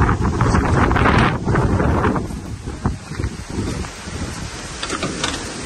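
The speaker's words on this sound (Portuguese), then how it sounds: "Vem cá, um ventão. Sorte que tem o vento." Strong gusty wind buffets the microphone outdoors beside a loaded car, a loud rumbling roar that swells and eases in uneven surges, close and unbroken.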